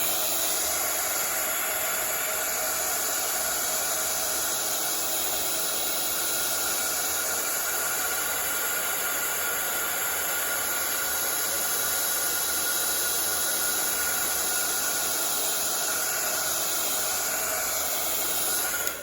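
A handheld heat tool blows hot air onto stamping foam, a constant close hissing roar with a steady high whine and no speech.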